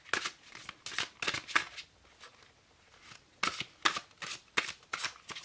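Tarot cards from a crow-themed deck being shuffled and drawn, giving crisp papery riffles in two bursts with a quiet pause between them, close up and with no talk.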